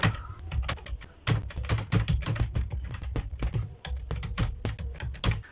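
Computer keyboard typing as Bengali text is entered in PowerPoint. Irregular, close keystrokes come in quick clusters with short pauses, and no talk is heard.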